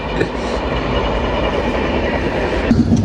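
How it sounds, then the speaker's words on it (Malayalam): A local train rolls along an adjacent track, a steady rumble of wheels with faint clatter, heard from beside the line with a brief squeal near the end. "അത് ട്രെയിൻ പോകുന്ന സൗണ്ടാ. ലോക്കൽ ട്രെയിൻ പോകുന്നതാ അപ്പുറത്തൂടെ"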